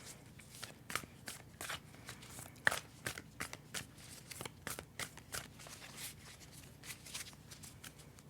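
Tarot cards shuffled by hand in a steady series of crisp riffling and snapping bursts, close and fairly quiet, with no talking.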